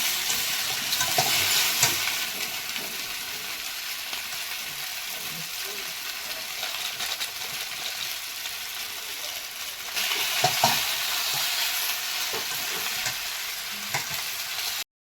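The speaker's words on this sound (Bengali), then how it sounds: "কড়াই বসিয়ে দিয়েছি তেল দিয়ে পাস্তা ভাজার জন্য" Pasta sizzles steadily as it fries in oil in a pan, with scraping stirs from a utensil breaking through the continuous crackle and a louder burst near the end.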